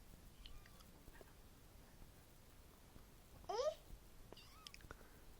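A cat lets out a single short rising meow, fairly close, in an otherwise quiet indoor room with faint soft voices and light rustling around it.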